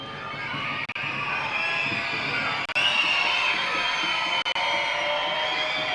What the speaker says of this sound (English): As fans here at New Britain screech with a Get Loud moniker on the scoreboard.